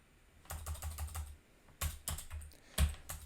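Keys clatter on a computer keyboard in short bursts of quick, close typing, separated by brief pauses, with no voices.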